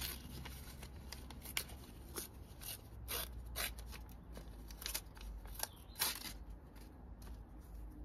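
A paper plant label is torn off by hand while potting seedlings, giving a series of short, crisp ripping and snipping sounds in uneven bursts, close and fairly quiet, with no talking.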